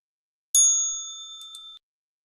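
A single bright electronic ding rings out marking the stock market opening bell, a clear tone that rings for about a second and then stops, alone in silence.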